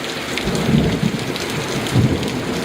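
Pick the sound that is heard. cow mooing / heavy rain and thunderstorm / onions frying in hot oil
heavy rain and thunderstorm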